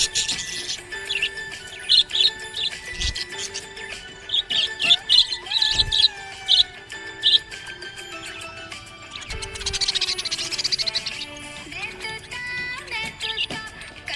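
A pet budgie chirps and tweets cheerfully in quick repeated bursts, close and clear, continuing in a lively run with brief pauses.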